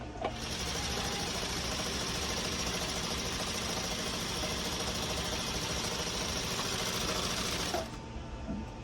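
A sewing machine runs steadily, stitching continuously with a fast, even mechanical whir and rattle at close range for about eight seconds before stopping abruptly.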